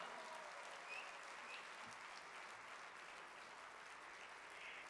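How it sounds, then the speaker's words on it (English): Faint, steady applause from an audience at a talk on social enterprise, a continuous hiss of clapping hands sounding distant and quiet, with no voices standing out. "I want to hear a thunderous round of applause for Nina, Miss America."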